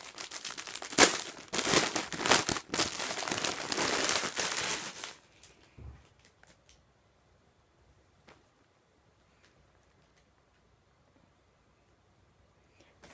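A plastic-wrapped Wish parcel is torn open with loud, close crinkling and rustling for about five seconds, followed by near silence with a few faint clicks.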